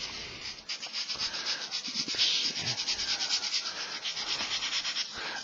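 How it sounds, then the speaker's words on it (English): Sandpaper rubs steadily against a handmade climbing hold, a close, continuous scratchy rasp with rhythmic strokes throughout and no talking. "So sand conservatively."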